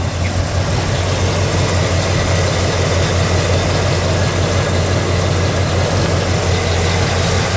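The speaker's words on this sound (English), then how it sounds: "It's got headers, good sounding dual exhaust, and really ready to go, Dalton." A 1969 Chevelle with headers and dual exhaust idles nearby, a loud, steady, deep rumble that holds even and unbroken throughout with no voices over it.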